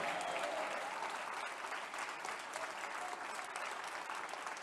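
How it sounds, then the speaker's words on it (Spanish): A church congregation applauds steadily at a lively service, the dense clapping filling the whole stretch at an even level, with faint voices mixed in beneath it. "Ese aplauso está flojo"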